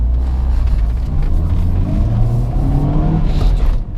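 A JAC J3 Turin with 97,000 km pulls away for a test drive near a mountain road, heard from inside as a loud steady engine rumble rising slightly before easing off at the end.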